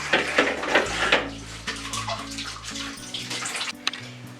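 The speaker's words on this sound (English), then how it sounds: "wash the oranges with the tap on" Tap water runs and splashes while oranges are rinsed in a colander, a steady close gush with shifting splatter and a few light knocks, no talking.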